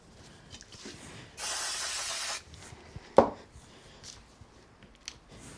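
An aerosol can sprays glue onto small craft card pieces in a single steady hiss lasting about a second, followed by a sharp tap and soft handling noises nearby.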